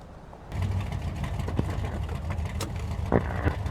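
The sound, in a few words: car engine driving in video game Mafia 2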